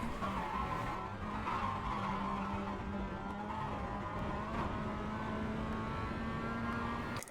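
Mazda MX-5 race car in iRacing at Circuit de Ledenon, its engine droning steadily at a constant pitch through a corner, with faint tire scrub underneath and no voices.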